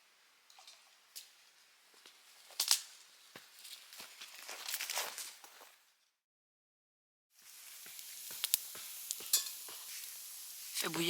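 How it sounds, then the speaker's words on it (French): Water boils in a pot over a campfire in the forest, with scattered pops, bubbling crackles and soft sizzles. It is quiet and close, breaks off into a short silence, and then resumes. "Fait bouillir notre eau pour boire."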